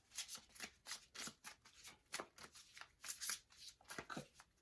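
Mystical Shaman oracle cards are shuffled in a steady run of crisp, papery riffles and flicks, close and fairly soft, with no talking over them.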